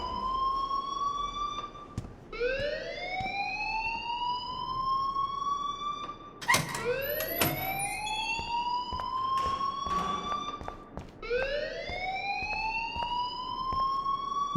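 A fire alarm blares inside a school in the game Life is Strange, a loud rising and falling electronic wail that repeats about four times in slow sweeps, steady and close, with no talking over it.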